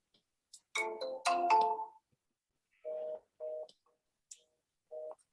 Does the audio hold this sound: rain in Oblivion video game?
no